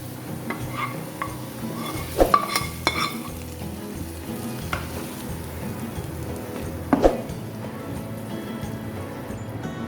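Steady hissing sizzle of hot oil with fried garlic poured into cooked mash (urad) lentils, with occasional stirring clatter and a few sharp crackles, close by and continuous.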